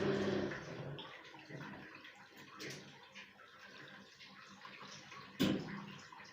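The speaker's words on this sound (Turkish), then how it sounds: "Şimdi su girişini açıyoruz." Water pours in steadily from an opened water inlet while fabric dye is being prepared, a continuous rushing flow at close range with a short louder splash near the end.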